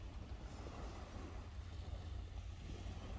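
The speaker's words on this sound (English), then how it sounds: "It's a calm night, no wind at all, apart from this." Light breeze blowing across a calm night beach during sea fishing on the Essex coast, a faint, steady low rumble of wind buffeting the microphone with no other sounds.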